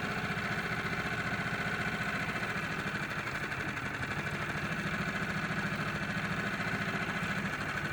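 A boat's outboard motor runs steadily on Loch Etive, a constant close droning hum with even rhythm and no voices.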